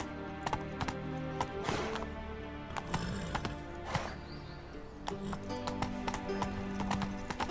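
Hooves of Roach, the horse in The Witcher 3, clip-clop at a steady gallop in close rhythmic beats, with a few louder thuds and a faint whinny mixed in.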